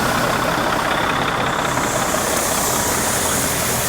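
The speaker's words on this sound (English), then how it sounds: "It's actually about the most reliable tractor on the farm." A farm tractor engine idles steadily just after a choked start, a loud, continuous rumble close by with no pauses or voices.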